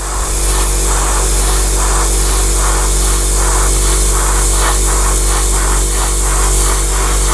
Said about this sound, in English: if you do have to stop and you start spraying, initiate the spray actually off the model